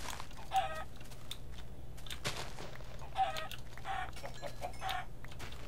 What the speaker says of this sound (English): Lots of chickens.